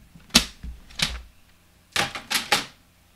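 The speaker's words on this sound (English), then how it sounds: "we need this trimmer one more time" A paper trimmer blade slicing through knitted fabric, two sharp chopping strokes followed after a pause by three quicker cuts, close and fairly quiet.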